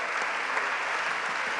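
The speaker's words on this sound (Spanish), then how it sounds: "Así que un aplauso, gracias." Steady applause fills a hall at a human rights forum, dense and sustained throughout with no voices over it.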